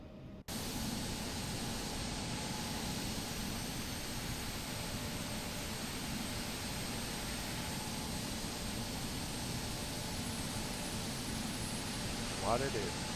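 Jet engine spooling up on an Embraer E-175 airliner in the X-Plane 12 flight simulator at Atlanta, a steady broad roar with a constant whine that holds loud and unbroken throughout, with a rising squeal near the end.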